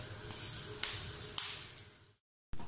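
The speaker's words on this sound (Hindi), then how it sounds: "एक साइड फ्राई करते हैं और बहुत बेहतरीन गोल्डन कलर आ चुका है" Beef shami kebabs frying on one side in a pan: a steady, close hiss of sizzling oil with small pops, then a brief silence before the sizzle returns, with no talk.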